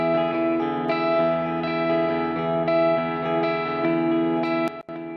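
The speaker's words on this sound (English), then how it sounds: "essentially what you have is these guitars routed to one delay with one repeat." Guitars routed through an analog-style delay with a single repeat in Pro Tools: sustained, chorused chords ring loudly and steadily, each phrase followed by one echo, then cut off abruptly near the end.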